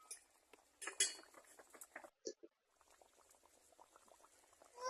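Red curry gravy bubbles at a steady boil in a cooking pot, with a dense run of pops and plops. A few metal clinks come through, and the pot drops briefly to near silence at the midpoint.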